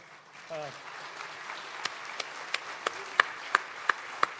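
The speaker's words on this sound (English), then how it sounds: "would y'all give them a round of applause?" At an evening songwriter event, sparse, evenly spaced claps ring out one at a time in a steady rhythm, sharp and fairly close, after a brief voice near the start.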